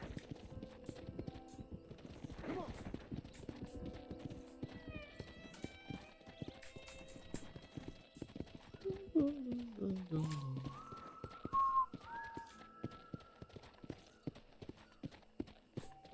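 Horse hooves clip-clopping at a walk in the video game Red Dead Redemption, light rhythmic hits under game music with a brief whinny and someone talking over it.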